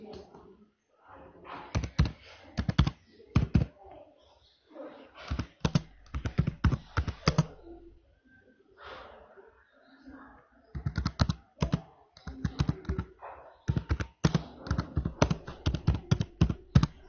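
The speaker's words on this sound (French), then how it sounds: "Attention au clavier, quand même." Rapid bursts of typing on a computer keyboard, close and crisp, with clusters of clicks separated by short pauses; a voice speaks briefly in the middle.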